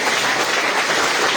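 A church congregation claps together in a dense, steady burst of applause, loud and close, filling the whole short moment without a voice over it.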